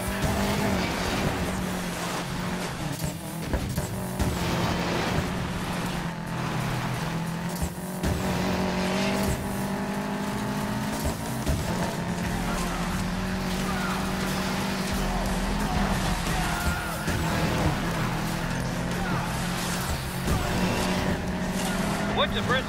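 Car engines roar and tires squeal during racing in the video game Need for Speed Payback, with continuous revving, gear shifts and skids up close, heard under game characters talking.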